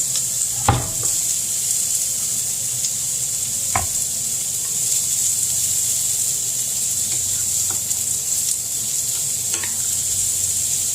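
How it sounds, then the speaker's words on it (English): Steady, close sizzling of carrots sauteing in a pan, with a few sharp clinks and scrapes from stirring utensils. "this has got a nice little sizzle going"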